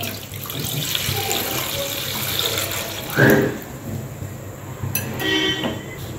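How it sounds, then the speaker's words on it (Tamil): Water pours steadily into a cooking pot to boil corn for homemade crispy corn, a continuous splashing rush that runs close and even, with a brief louder gush midway. "இப்போ கொஞ்சம் தண்ணி ஊத்திப்போம்."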